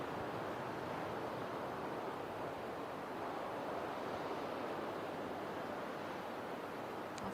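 Surf breaks at Jeffreys Bay during a longboard surfing championship, a continuous broad roar of waves mixed with wind noise, steady and fairly loud without pause.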